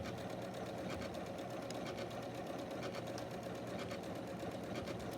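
Janome sewing machine running a satin stitch, started with its start-stop button, giving a steady rapid mechanical whirring and needle chatter throughout, close and continuous with no talk.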